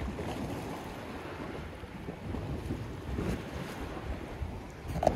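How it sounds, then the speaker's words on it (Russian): Black Sea waves wash and rustle continuously against a shore at Sochi in March, with gusts of wind buffeting the microphone. "Море шелестит волнами."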